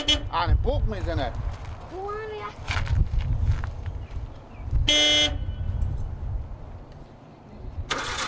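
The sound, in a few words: car horn honking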